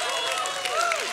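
A church congregation applauding and cheering, a dense wash of clapping with a voice rising over it.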